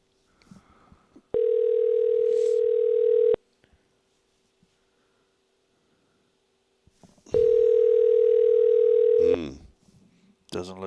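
A telephone call tone sounds twice as a steady held beep, each lasting about two seconds with a pause between, before the call goes to voicemail; faint background noise fills the gaps.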